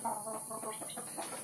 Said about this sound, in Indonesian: Pagi ini saya baru ngasih makan ayam-ayam saya di kandang yang kemarin kita bikin itu ya